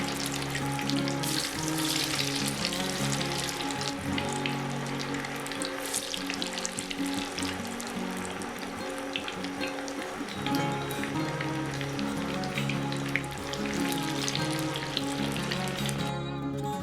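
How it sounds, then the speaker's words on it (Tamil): Tapioca (cassava) chips deep-frying in hot oil, a dense continuous sizzle and crackle at close range with bubbling bursts throughout, largely alone with barely any talk. "மயக்க பொரிச்சோன்றிருக்கிற டைமில்"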